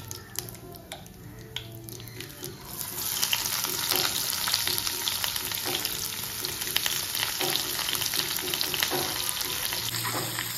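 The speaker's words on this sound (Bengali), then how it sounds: "পেঁয়াজটাকে এবার একটু ভুনে নেব, যতক্ষণ না লাল লাল হচ্ছে" Raw onion slides into hot oil already fragrant with tempered spices for mutton tehari, a steady, dense sizzle that swells after a few seconds and crackles on close and continuous, with no talking.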